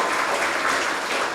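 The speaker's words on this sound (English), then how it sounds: "Can we all have a round of applause?" Brief burst of dense, even applause from an audience at a youth public speaking event, filling the moment without any talk.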